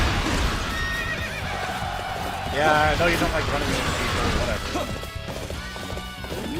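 Horse neighs and clip-clopping hooves in the video game Dynasty Warriors 8 Empires, a whinny rising clearly mid-clip amid battle clashes and game noise, with someone talking over it throughout.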